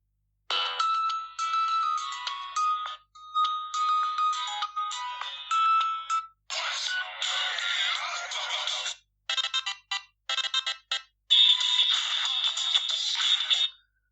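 A cheap budget phone's loudspeaker plays a ringtone during a speaker test, a tinny, thin melody of bright repeated phrases with short pauses between bursts, fairly loud and alone with no talking.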